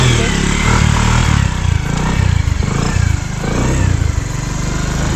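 A motorcycle engine running steadily and loud throughout, with a low rhythmic throb and some clatter, heard on a rainy outing.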